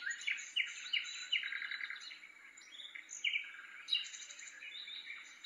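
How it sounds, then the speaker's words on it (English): A white noise machine plays several birds chirping and tweeting in quick, bright bursts, a steady stream of high calls with no talking. "instantly we hear that nice nature foresty chirping noises from the birds"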